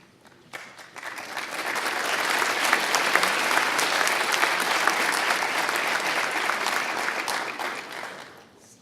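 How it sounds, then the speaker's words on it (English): A crowd at a fire academy graduation breaks into applause for a newly pinned firefighter. The clapping starts abruptly, builds into a loud, sustained roar of many hands, then tapers off near the end. "Round of applause for Firefighter Jakowski"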